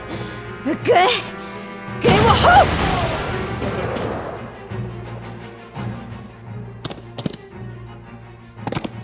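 Cannon fire in the strategy video game Banner of the Maid: two heavy crashing blasts with rumbling debris, followed by scattered lighter impacts over a low game soundtrack.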